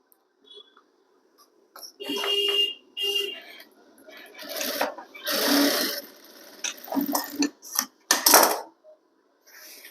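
A sewing machine stitches a petticoat waistband in short, loud bursts separated by pauses, with a voice talking between and over the runs.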